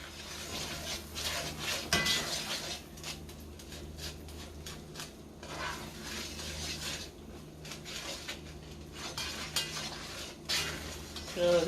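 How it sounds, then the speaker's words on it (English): Food being stirred and scraped around a sizzling pan while yams, rice and pineapple cook, a steady close scraping with scattered clinks of utensil on metal and a few louder knocks, no talking. "So I'm just going to keep mixing this around."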